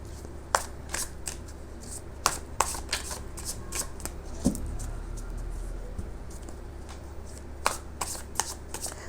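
A deck of tarot cards is shuffled in a quiet room: a soft, continuous riffling patter punctuated by several sharp, crisp card snaps, with a low hum beneath and no talking.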